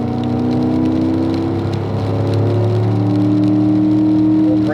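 A car climbs a hill on the Spring Mountain track in pouring rain, its engine droning loud and steady with rising tones and rain hiss close by throughout.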